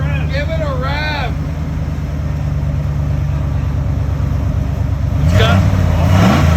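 Ford Bronco engine with a newly fitted exhaust, idling steadily up close and then revving sharply near the end, while excited voices talk over it.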